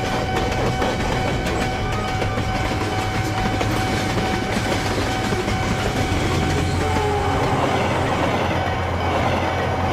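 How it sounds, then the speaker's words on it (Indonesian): A KRL commuter train pulls away from a station, with steady loud rumbling and rail noise, faint clickety-clack and a sustained tonal whine throughout. "lalu KRL pun berangkat."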